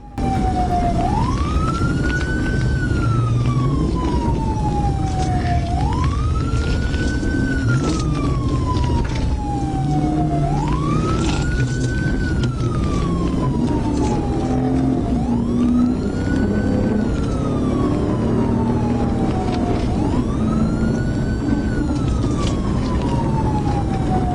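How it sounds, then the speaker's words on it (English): A police car siren during a high-speed pursuit sweeps up and down in a steady repeating cycle, loud and close, over a rumbling vehicle engine. "Miller activated his lights and siren and began the pursuit."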